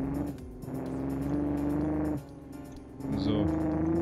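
A simulated tipper truck engine drones in the BeamNG Drive driving game. The tone is steady and loud, dips briefly partway through, then swells again.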